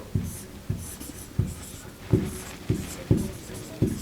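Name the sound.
writing by hand during English lesson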